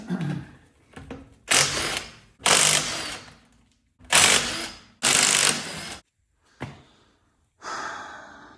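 A car wheel comes off its hub as a power ratchet spins the lug fasteners in four loud bursts of a second or so each, followed by fainter clicks and shuffling.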